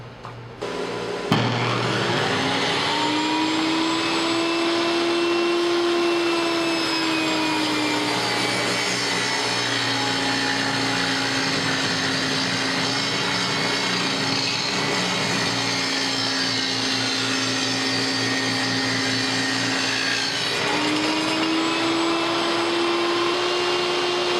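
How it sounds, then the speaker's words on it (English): A saw rips a leftover cherry board to 3 inches wide, starting with a sharp click into a loud, steady whining roar. The pitch sags as the blade bites into the wood, then recovers near the end of the cut. "I'm going to rip it to 3 inches wide"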